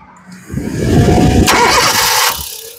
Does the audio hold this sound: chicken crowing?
no